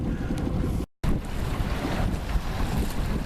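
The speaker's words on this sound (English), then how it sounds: "Beautiful sailing conditions. 13 knots or so. A nice angle, so we can hopefully sail this all the way home." A sailboat heading home under sail in about 13 knots of wind, with loud continuous wind buffeting the microphone and water rushing along the hull, briefly cut out for a moment before resuming.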